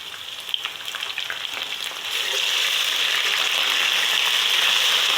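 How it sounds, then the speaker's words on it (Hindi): Garlic, ginger and green chili paste frying in a pan with browned onion gives a steady, close sizzle that grows louder and denser partway through, with no talking. "और देखिए लहसुन अदरक भुन चुका है"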